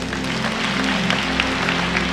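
A church congregation applauds briefly, with soft, steady clapping spread through the room under a low background hum.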